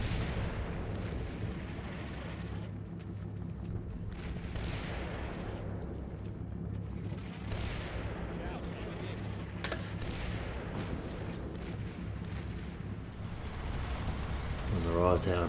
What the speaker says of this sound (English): Taking fire from some Russians on the far left.